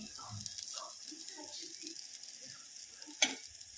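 Spice masala made with powdered spices sizzles in a pan while being stirred for a chicken rassa. A steady hiss runs under soft scraping stir strokes, with one sharp clink near the end and a faint voice in the background.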